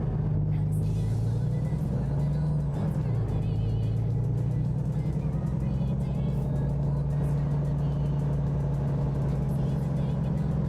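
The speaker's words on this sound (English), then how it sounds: "Loud ass truck." A loud truck rumbles steadily close by, a heavy low engine drone that holds for the whole stretch over a constant background mix.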